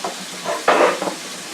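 Garlic tossed onto pepper, onion and cilantro in a pan gives a brief burst of sizzle with a quick stir, close and short.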